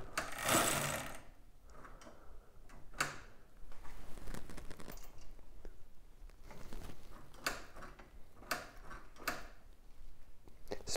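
A mini bike wheel spins freely after a clutch brake adjustment, giving off a steady run of soft mechanical ticking and faint rubbing. A few louder clicks and rattles cut in, and no one speaks.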